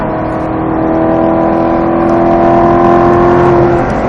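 Race car engine holding a steady high rev near 6,000 rpm, a loud continuous whining drone with a slight rise in pitch toward the end, close and alone.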